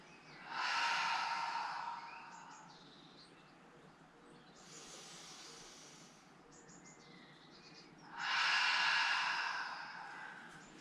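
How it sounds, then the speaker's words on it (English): Slow, deep breathing during a relaxation session: two long, loud breaths through the nose near the start and end, with a softer breath between them, close and breathy against a quiet background. "And exhale. And then inhale."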